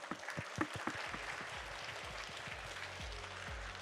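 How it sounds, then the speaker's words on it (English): Audience applause at a programming contest closing ceremony, a soft, distant patter of clapping that fades away within a few seconds. "So give them applause."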